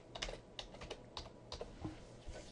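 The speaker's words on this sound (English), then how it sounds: "So the first line I'm going to type in leadership" Someone types a search term on a computer keyboard in a library setting: a quick irregular run of soft, close key taps, about a dozen clicks, with no talking.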